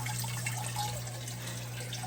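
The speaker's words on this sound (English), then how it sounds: "you can see how the water is trickling down in there." Water trickles steadily down a 3D-printed aquaponics tower garden, a soft continuous wash of falling water with a low electrical hum underneath and no talking.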